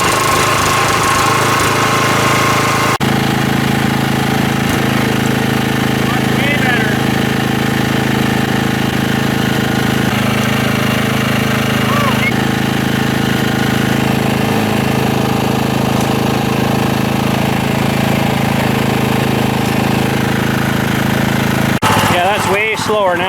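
An old engine bought off a marketplace, with a loose part that will not stay tight, runs and idles with a steady rough, knocking chug, loud and close throughout, while someone talks over it.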